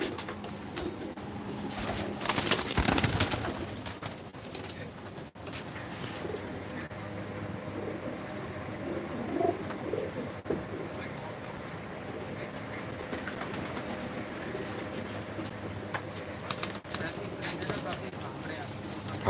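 Pigeons coo repeatedly nearby in soft, throaty calls, with people talking in the background.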